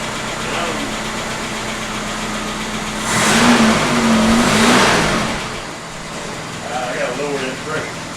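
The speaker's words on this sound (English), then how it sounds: "This thing had just enough left in the carburetor to get it running until it primed up." A Mitsubishi Mighty Max pickup's carbureted engine idles steadily after a fuel pump replacement, swelling into a louder rev midway before settling back to a steady idle, with someone talking over it.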